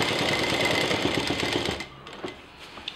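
A sewing machine runs a steady rapid stitch through backpack fabric, buzzing continuously for a couple of seconds before stopping, followed by faint handling clicks.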